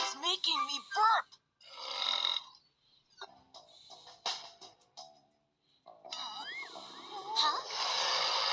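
Several deep burps come in short bursts between stretches of talking, close and clear, interspersed with brief quiet gaps.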